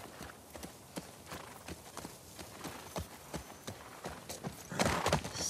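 Horse hooves clip-clop at a steady walking rhythm while riding in the video game The Last of Us Part II, close and clear, with a brief louder burst of movement near the end.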